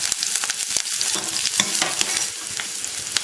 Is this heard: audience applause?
no